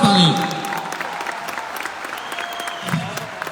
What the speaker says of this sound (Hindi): ताली होनी चाहिए, जबरदस्त ताली